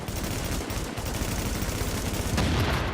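Sustained gunfire from a weapon in Tom Clancy's The Division, a dense continuous rattle of rapid shots filling the clip at steady loudness with no talk.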